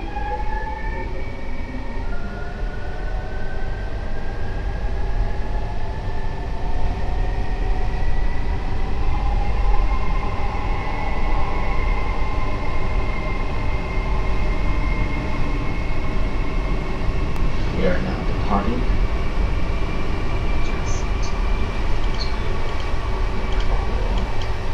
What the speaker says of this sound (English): it looks like the Dutch train is departing from the station. Oh, we're going to depart soon too.